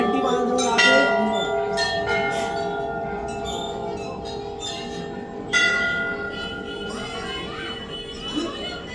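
Temple bells ring out at Chitai Golu Devta temple in India with several clear strikes, each tone lingering in a long shimmering decay, over a soft murmur of people nearby.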